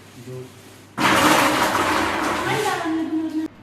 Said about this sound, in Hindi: सूखे ड्राई फ्रूट्स में ही मिक्सी चला देता हूँ।